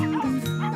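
A dachshund gives a short, close, whiny bark or yip, a single brief vocal burst with a high, tonal quality.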